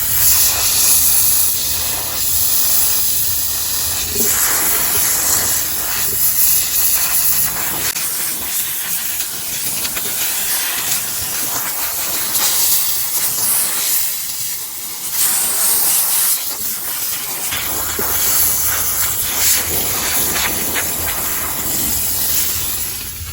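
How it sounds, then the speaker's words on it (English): A VX5000 steamer cleans a car interior with a loud, continuous jet of steam hissing up close, briefly easing off and returning a few times over the span. "Now we're going to clean this area with this steamer."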